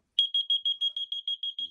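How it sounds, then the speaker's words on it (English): A water leak detector alarm shrieks after its prongs touch water, a loud, piercing high electronic beep repeating rapidly and evenly in a steady rhythm, heard close and alone. "This is a water detector. Check out what happens if it touches water."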